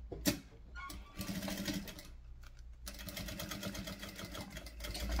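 A sewing machine stitching the seam of a baguette bag, its needle running in a fast even whir with brief pauses and restarts, close and moderately loud with no voices.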